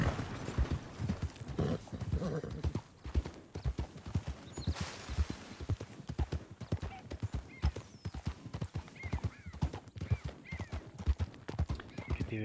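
A horse gallops in Red Dead Redemption 2, its hooves pounding in a fast, even rhythm close by, with whinnies rising now and then and occasional talk underneath.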